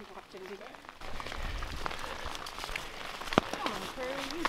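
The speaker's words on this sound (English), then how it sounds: "It's getting rainy." Rain falls steadily on a wooded mountain trail in the Smoky Mountains near Cosby, Tennessee, a broad soft patter that continues under talk, with a few brief sharper taps.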